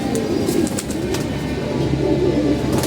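Pigeons in a loft housing young squabs coo in low, repeated throaty bursts, fairly close and steady, over a faint background hum with no talking.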